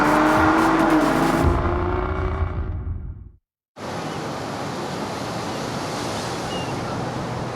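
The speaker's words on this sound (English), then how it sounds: "It's a nice day at the beach." Beach ambience: steady surf wash after a car's engine and road noise fade out, with a brief silent gap between the two, no voices.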